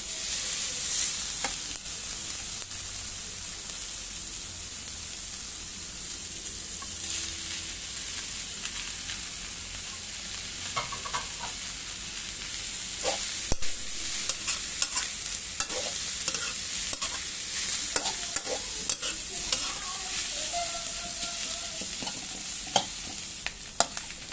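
Pickled mustard greens stir-fried with fried egg in a pan, a constant close sizzle with repeated scraping stirs and light clinks throughout, growing busier in the second half.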